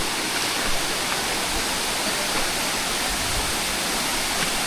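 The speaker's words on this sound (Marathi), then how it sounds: "आणि खरंच जेवढा मी विचार केलेला ना त्याच्यापेक्षा खूप मोठा धबधबा आहे" The Ghatkara waterfall near Shahapur roars close by as a dense, constant rush of falling water, loud and unbroken, with no voices over it.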